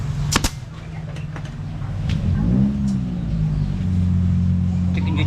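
A Yamaha Mio Sporty scooter is kick-started with a couple of sharp clicks, then its small engine catches and settles into a buzzing idle that rises slightly as it is revved, close up.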